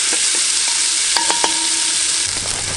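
Onions sizzle steadily in a cast-iron potjie pot over charcoal, a dense close crackle with a few scraping stirs partway through and no voices.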